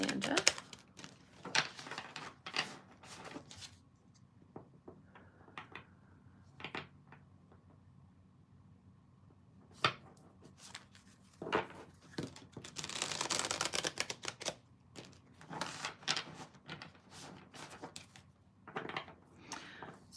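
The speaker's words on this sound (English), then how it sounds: "as I shuffle the cards" Quick bursts of papery riffling and soft flapping as tarot cards are shuffled close by, in irregular clusters with quiet pauses between.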